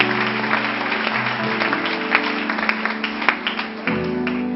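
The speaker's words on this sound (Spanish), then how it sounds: "Porque ese aplauso no es para ninguno de los que estamos en este lugar," Church congregation applause during a Spanish-language worship service, crackly clapping over a sustained organ or keyboard chord, continuing at moderate loudness as the music shifts near the end.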